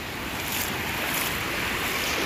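Strong sea water and surging waves make a loud, continuous broadband roar with wind buffeting the microphone, steady throughout with no speech.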